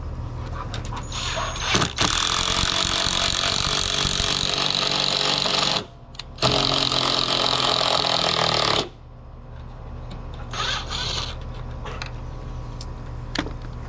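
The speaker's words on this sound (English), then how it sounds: "So I'll be using these lags. And I'm just gonna drive them in." An impact driver drives lag screws into pergola beams in two long, loud, grinding bursts separated by a short pause, followed by quieter clatter and a few brief clicks.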